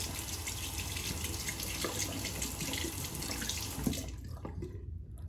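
Steady running water from a tap splashes continuously as a lathered shaving razor is rinsed under the stream, then the flow cuts off near the end.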